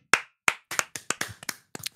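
A single person claps about nine times in quick, slightly uneven succession, close and crisp against silence.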